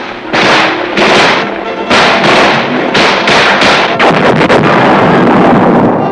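Howitzers, 8-inch self-propelled and 155-millimeter guns of an infantry division, fire a rapid series of loud, close booms. About nine heavy blasts come one after another, speeding up toward the end.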